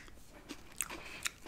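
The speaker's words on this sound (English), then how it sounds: "let's get a good crunch in" Sonic the Hedgehog honey cereal, ring-shaped like thin Cheerios, is bitten and crunched close to the mouth, with a few sharp crisp snaps followed by softer chewing.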